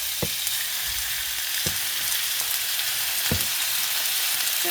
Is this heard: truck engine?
no